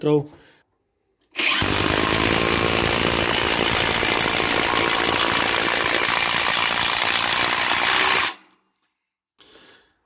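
A Parkside PDSSAP 20 cordless impact wrench, set to its maximum 226 Nm, drives a long screw with a loud, continuous rattling hammer for about seven seconds and then stops abruptly, with faint noises on either side.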